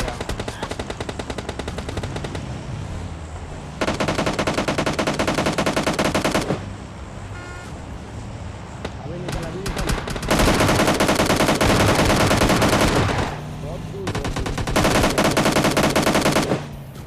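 Automatic gunfire from a battle royale video game plays in long, loud, dense bursts separated by brief quieter gaps, sounding like rapid machine-gun fire with no voices over it.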